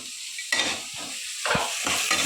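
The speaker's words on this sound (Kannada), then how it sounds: "ಇದು ಚೆನ್ನಾಗಿ ಫ್ರೈ ಆಗಬೇಕು" Ginger garlic paste and green chillies fry in hot oil, crackling and sizzling steadily while a spoon stirs in a few scraping bursts close up, with no talking.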